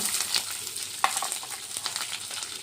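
Mustard seeds, cumin, curry leaves, green chillies and onion frying in oil and ghee for semiya upma give a steady close sizzle, with faint stirring scrapes and one sharp clink from the pan.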